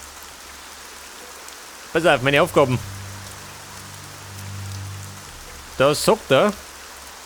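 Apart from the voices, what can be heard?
rain in the video game Arcania - Gothic 4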